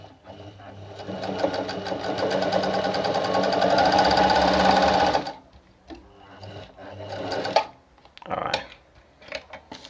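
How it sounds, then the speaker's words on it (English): A Pfaff model 9 sewing machine runs a straight stitch, humming and clattering steadily and close for about five seconds before stopping, then scattered clicks and handling noises follow. "when you stitch now"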